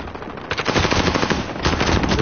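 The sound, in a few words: machine gun fire in a PS4 video game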